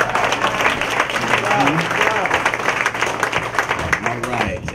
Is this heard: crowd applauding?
yes